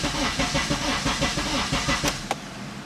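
A car with a swapped-in Honda K24A2 engine cranks over on a weak battery, a steady, sluggish chugging rhythm under a broad hiss, with a couple of sharp clicks near the end.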